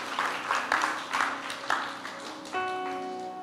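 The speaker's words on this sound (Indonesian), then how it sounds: "Boleh kita beri tepuk tangan for the mothers here" Church congregation at a Good Friday service claps for the mothers, scattered and fairly soft, with distinct hand claps standing out before a sustained keyboard tone comes in.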